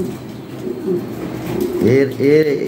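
Lahori Shirazi pigeon cooing in a loft, two short throaty coos near the end, close and moderately loud over a low background murmur of other birds.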